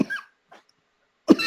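A young man gives a short, dry cough with a brief throaty burst at the start, a faint breath after a pause, then a second sharper cough, close and alone.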